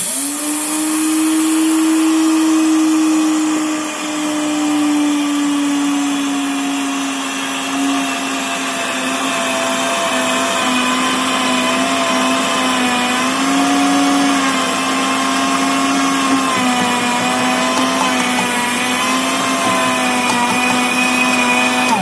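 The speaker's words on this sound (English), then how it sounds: "I've got some some flaxseed. Let's see if I can make that grind nicely." A blender's dry jar grinds flaxseed in one loud, continuous motor drone lasting over twenty seconds, its pitch wavering slightly as the seeds break down, with no talking.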